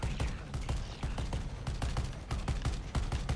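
Rapid bursts of gunfire crackle in the video game Suicide Squad: Kill the Justice League, a dense, fairly quiet stream of repeated shots with a steady rhythm throughout.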